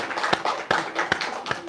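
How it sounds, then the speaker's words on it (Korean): A church congregation at a Korean Baptist Sunday service claps to welcome an arriving guest, a short burst of brisk, uneven hand claps heard close up with no talking over it. "우리 박수로 한번 환영해 드립시다."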